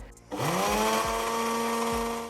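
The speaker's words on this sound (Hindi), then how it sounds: "मैं आपको इसको ना ब्लेंडर में भी मिक्स करके दिखाती हूँ" A blender motor starts up and runs steadily at high speed mixing a paste, a loud continuous whine with slight dips in pitch as the load shifts.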